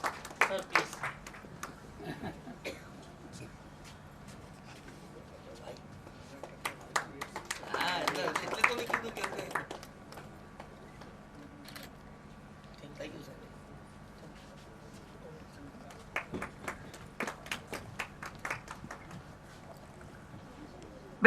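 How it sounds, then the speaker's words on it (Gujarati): Audience clapping at a teachers' award ceremony, welcoming an honoree: scattered claps with a louder burst of applause midway and another patter near the end, fairly faint in a room with hum. "એટલે આપણે એમને જોરદાર તાળીઓથી વધાવીએ"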